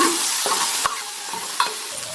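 Curry stirred in a frying pan over steady high sizzling, with a few sharp utensil scrapes and clinks against the pan, close up and with no voices.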